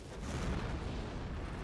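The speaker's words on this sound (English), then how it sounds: "Cool guys walk away from explosions." A Dark Souls 2 boss fight explosion rumbles low and steady, a dense booming roar that holds for nearly two seconds at moderate loudness with no voices over it.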